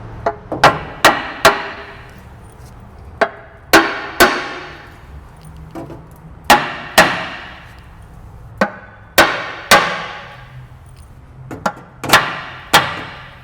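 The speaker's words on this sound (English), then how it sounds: "So we have a dowel right here and down here. That's where we'll hammer." Sharp hammer blows drive a dowel on a vintage Cummins 220 engine in a Peterbilt 350 truck, striking at irregular intervals, often in pairs or triplets, each hit ringing briefly before fading, close and loud.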